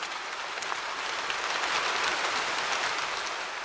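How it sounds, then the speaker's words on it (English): Gentle rain on a roof with timber and pitched seams: a steady, even hiss of fine drops, soft and unbroken, with no voices. "Let the rain have a long moment now, no story in it, only sound."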